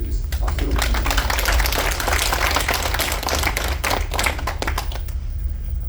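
Audience applause greets a speaker being introduced at a gathering aboard an MSC cruise ship: dense, steady clapping from many hands that carries on for several seconds and thins slightly at the end.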